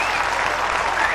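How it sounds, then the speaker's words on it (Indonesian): A crowd's steady applause fills the room, loud and even throughout with no breaks. "Tepuk tangan lagi."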